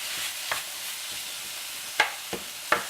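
Meat browns in a pan for a Mexican hot dish, giving a steady soft sizzle with a few sharp scrapes and clicks of a utensil stirring, close and fairly quiet, with no talking.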